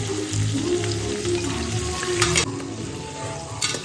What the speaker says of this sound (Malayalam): ഉള്ളി ഒന്ന് എളുപ്പം മൂക്കാനായിട്ട് ഒരു പൊടിക്ക് ഉപ്പിട്ട് കൊടുക്കുക കേട്ടോ.